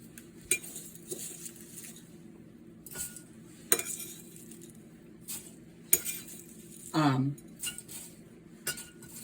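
Homemade ground biryani masala being tipped into a bowl: sparse, quiet clinks and taps of a spoon against the bowl, with a longer scrape near the end.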